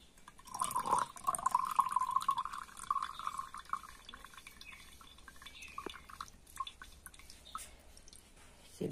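Excess water drains from an amaryllis pot, first as a brief trickling pour, then as scattered single drips falling close by in a quiet room.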